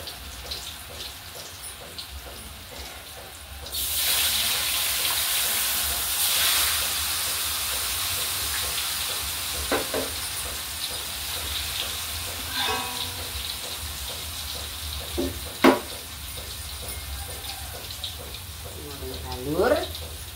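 Food sizzles and hisses steadily in a hot pan, the crackle growing louder partway through, with a voice talking intermittently over it.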